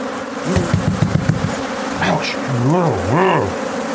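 A dense, loud buzzing of an aggressive swarm of 10,000 to 15,000 bees close by, a continuous droning hum with rising and falling pitch.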